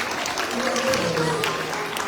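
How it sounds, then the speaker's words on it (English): A school assembly crowd claps for volunteers taking their places, brief dense applause lasting about two seconds with voices mixed in. "So give them another round of applause as they take their place."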